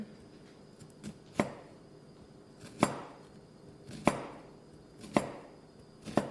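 A knife slices through food for latkes on a cutting board, with five sharp, evenly spaced chops each followed by a short scraping pass, close and clear with no talk.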